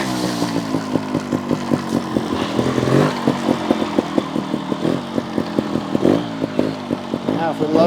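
GasGas TXT 300 trials motorcycle ridden on throttle alone over a backyard obstacle course, its two-stroke engine popping in quick, uneven bursts up close, with clatter and brief surges as the bike climbs.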